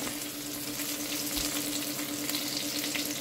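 Beetroot frying with spices in a pot, a steady close sizzle and crackle with faint stirring, continuous and even throughout with no talking.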